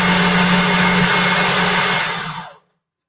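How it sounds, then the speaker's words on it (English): A food processor grinds roasted pumpkin seeds with a loud, steady, high whir. The motor then spins down and falls silent near the end. "So I've got the pumpkin seeds already roasted in my food processor. And I'm just going to get it started."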